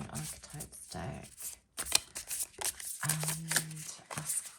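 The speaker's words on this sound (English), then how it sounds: "I'm going to shuffle some cards from the Wild" Tarot cards from a Wild Unknown Archetypes deck being shuffled in repeated riffling bursts close by, while a person talks over them.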